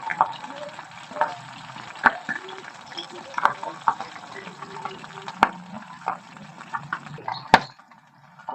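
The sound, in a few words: magur catfish frying in sputtering oil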